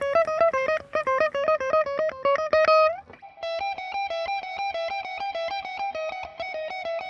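Electric guitar with a crunchy, distorted tone plays choppy repeated notes, pauses briefly, then rings out with sustained, steadier picked notes.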